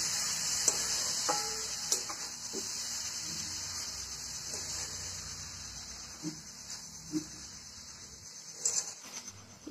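Grated radish and salt being stirred into potatoes in a frying pan, with a steady sizzle and hiss running throughout and occasional soft scraping knocks of the spoon against the pan, no voices.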